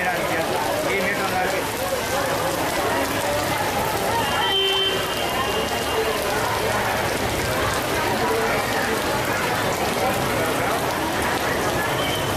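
Heavy monsoon rain pouring down in Junagadh, a steady, dense hiss of drops striking surfaces that stays loud and unbroken throughout.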